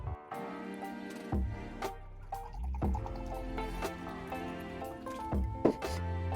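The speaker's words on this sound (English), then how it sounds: "And then 200 ml of apple cider vinegar." About 200 ml of apple cider vinegar is poured while making kebab-shop-style red cabbage, giving close, drippy, gurgling liquid sounds with hollow ringing tones that rise and fall over several seconds, with no speech.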